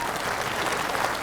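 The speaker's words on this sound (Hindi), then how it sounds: "इनके लिए तालियां बजाइए" Crowd at an evening Diwali gathering with soldiers at the border applauds steadily, a thick, continuous roar of many hands clapping with no break.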